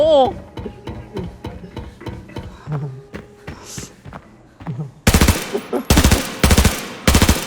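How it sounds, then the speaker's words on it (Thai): Rapid repeated gunfire in the video game Arena Breakout, evenly spaced shots throughout with a louder, denser burst near the end, while someone talks over it. "ไอ้โมกูไม่ได้ถือปืนแต่กูยิงปืนได้โม"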